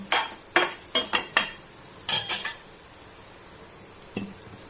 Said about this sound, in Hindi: देखिए बीच में एक बार इसको घुमा लेते हैं, अभी गले नहीं है, ये गल जाएंगे।